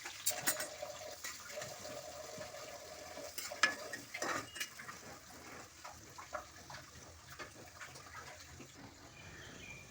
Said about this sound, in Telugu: దాంట్లో ఆయిల్ పోసుకొని వేడెక్కిన తర్వాత ఆనియన్స్ వేసుకుందామండి